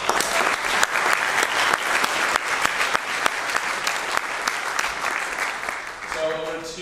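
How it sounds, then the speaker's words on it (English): Sustained applause from a large crowd at a hackathon closing ceremony, dense clapping with sharp individual claps standing out, loud and steady before tapering slightly at the very end. "So give yourselves a round of applause."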